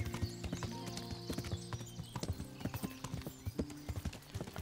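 Horse hooves clip-clop in a steady rhythmic gallop in the medieval game Kingdom Come: Deliverance, close and continuous with no voices over them.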